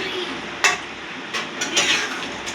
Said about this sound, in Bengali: প্রথমে এরকম নাড়াচাড়া দেবেন